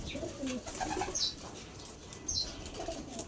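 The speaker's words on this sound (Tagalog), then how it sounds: "Ito naman anak ng ibon ni Pare Wilmer." Soft pigeon coos near at hand, mixed with brief flutters of wings and a few higher chirps in a quiet setting.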